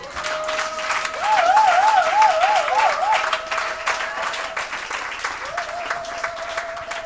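A church congregation applauding during a Sunday service, sustained clapping that swells early and continues under a held organ or keyboard tone with a brief trill.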